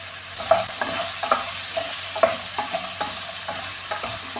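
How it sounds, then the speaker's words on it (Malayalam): Raw plantain pieces with turmeric fry in hot oil, a steady sizzle running throughout while a spoon stirs them in the pan with a few scraping knocks, close and without any talking. "വാഴയ്ക്ക ആദ്യം എണ്ണയിലിട്ട് ഇങ്ങനെ ഒന്ന് വഴറ്റിയെടുത്ത് വെക്കുന്നതാണ്"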